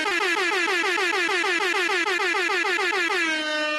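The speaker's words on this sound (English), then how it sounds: "That was a very long air horn." One long, loud air horn blast sounds continuously for nearly four seconds with a warbling, pulsing tone that smooths out into a steady blare just before it ends, with no voices over it.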